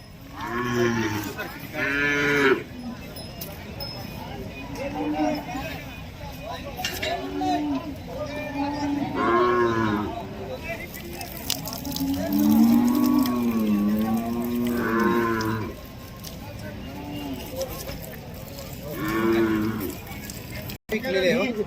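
Several Khillar cows moo in long, wavering calls at the Sangola cattle market, some near and some farther off, over steady crowd murmur and scattered voices.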